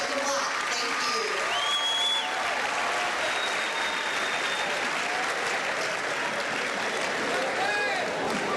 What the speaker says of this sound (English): I would ask that we have one more round of applause for our veterans